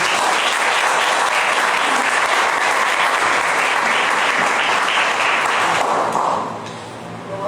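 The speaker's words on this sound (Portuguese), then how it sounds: "Vamos aplaudir o Senhor Jesus." A church congregation at a Portuguese-language evening conference breaks into loud, dense, sustained applause, a steady wash of many hands clapping close by that fades near the end.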